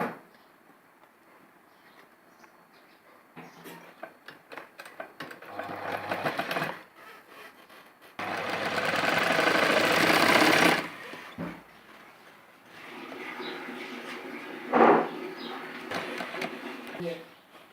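A sewing machine stitches a side zipper seam on a long dress blouse in a few bursts of whirring needle runs, the longest lasting a few seconds, with someone talking between and over them.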